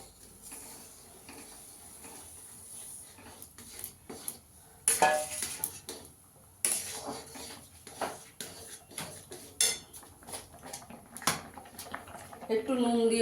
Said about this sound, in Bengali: এবার সুজিটা দেবো আর নাড়বো।